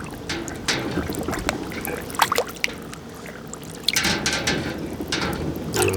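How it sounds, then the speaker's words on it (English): Bear skull parts rinsed under clean cold water after peroxide whitening outdoors, a steady wash of running and splashing water with occasional small knocks and drips, fairly close throughout. "give them a nice good rinse,"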